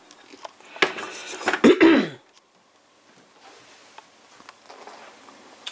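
A burst of harsh, rough coughing and throat clearing up close, followed by quiet rustling and faint background noise.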